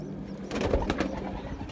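Pigeons in a loft give a short, soft cooing burst at close range, a low throaty coo over faint background murmur.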